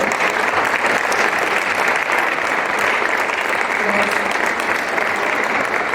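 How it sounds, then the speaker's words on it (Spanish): Dense, steady applause from a large conference audience, loud and continuous throughout with no pauses. "Un fuerte aplauso para la conferencia"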